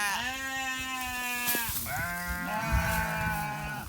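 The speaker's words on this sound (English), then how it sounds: "here are our sheep at the moment." Ewes on a farm bleat close by, two long wavering calls one after another, fairly quiet with no talking.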